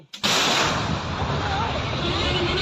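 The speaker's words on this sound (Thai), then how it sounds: "นัดที่หนึ่งหมู่สองยิงไปแล้ว" An artillery round fired during a Thai–Cambodian border clash at Ta Muen Thom temple: one loud, sharp blast that gives way to a long, rolling boom and echo, with no speech.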